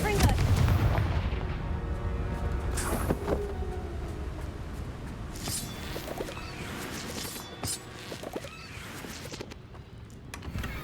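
Confringo blasting spells in the Hogwarts Legacy video game, a series of heavy explosive booms and sharp impacts over rumbling game ambience, loud and close.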